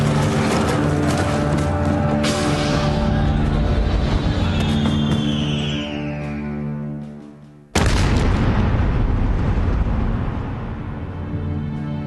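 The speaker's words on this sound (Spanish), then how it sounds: "La torre de mando del Huáscar estalla pulverizada por un disparo." Naval gunfire strikes the Huáscar ironclad's command tower in a heavy, roaring blast that swells and fades, then a second sudden loud boom bursts in and rumbles away, both close and powerful.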